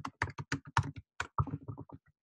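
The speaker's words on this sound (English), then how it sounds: "we can type out whatever it is we want to do" Rapid, crisp keystrokes on a computer keyboard in bursts of typing, close and clear with short pauses between clusters of taps in a quiet room.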